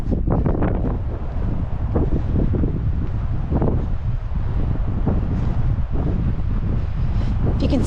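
Strong wind buffets the microphone on the Boland Ridge Trail in Wind Cave National Park, a constant loud rumbling roar with gusty surges that fill the whole stretch.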